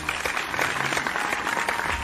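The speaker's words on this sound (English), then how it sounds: "A round of applause for Rosie." Cartoon classroom applause for a student named Rosie, a steady burst of many hands clapping together for about two seconds, fairly close and even.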